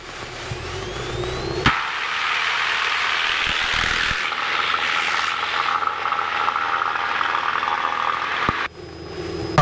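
A Cessna 172 powers up for takeoff on runway 04 at Sarrebourg-Buhl airfield, its propeller engine roaring loud and steady from close inside the cabin for most of the span, with brief clicks and a drop at the end.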